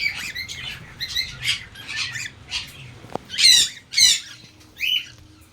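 Pet birds in a breeding setup give a series of loud, close, harsh squawks and chirps in short uneven bursts, with a faint tap midway and no talk.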